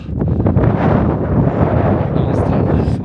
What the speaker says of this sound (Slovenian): Malo pod vrhom je pa spet en veter nazaj prižgal.